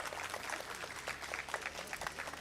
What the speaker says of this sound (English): I request everyone to welcome him with a round of applause